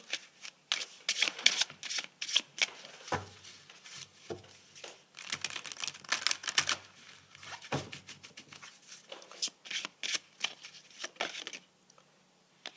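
Tarot cards are shuffled close up in quick bursts of riffling and crisp slapping, with short pauses between rounds before the shuffling fades out.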